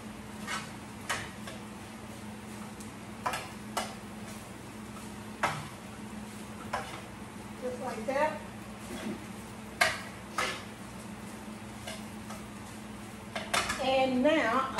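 Dirty rice ingredients get mixed in a pot, with irregular spoon clinks and scrapes against the cookware spaced over fifteen seconds and a busier rattling burst at the end, amid quiet room noise.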